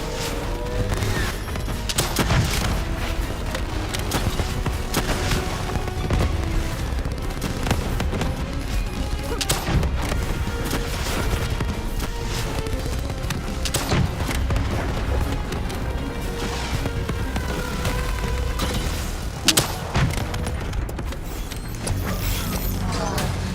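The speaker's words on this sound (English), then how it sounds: "Javelin missiles incoming!" A dense battle in Call of Duty: Black Ops III in which Javelin missiles strike amid constant gunfire, mechanical clanks and booms, loud and chaotic for the whole stretch with no voices heard.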